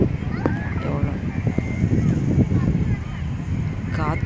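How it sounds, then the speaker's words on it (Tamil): Steady sea wind on Chavakkad beach near Guruvayur at evening, a continuous low rumble and buffeting under nearby chatter and crowd noise. "காற்று செம்மையாக இருக்குது பாருங்கள்."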